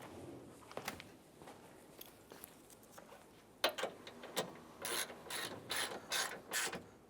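A ratchet snugs down the radiator bolts on a 2015–2020 Cadillac Escalade. It starts with a few sparse clicks, then comes a sharp knock, followed by bursts of rapid, close pawl clicking in short repeated strokes.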